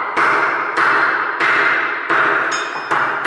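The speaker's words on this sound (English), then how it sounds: "Hit the hammer on the wood block and just tap it on" A hammer taps on a wood block to drive a part on a metal shaft through, with six sharp, ringing knocks at a fairly even pace, close and loud, each decaying briefly.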